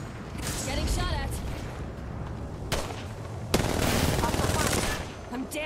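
Rapid automatic gunfire in the battle-royale shooter Apex Legends. Bursts overlap with close, loud shots and game voice lines, and the firing barely lets up.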